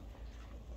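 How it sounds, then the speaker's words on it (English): A hen clucks after laying an egg on a small farm, giving a faint run of squawky, quack-like calls that repeat steadily with no talking. "That's what a chicken sounds like after she's laid an egg."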